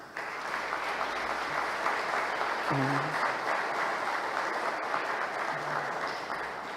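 A crowd applauds steadily at an honorary citizenship ceremony in Maceió, dense and sustained clapping that holds at an even level for about seven seconds.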